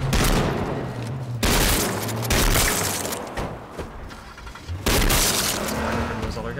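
Shotgun blasts in the video game H1Z1, loud repeated booms every second or so amid a chaotic firefight, with a voice speaking in between.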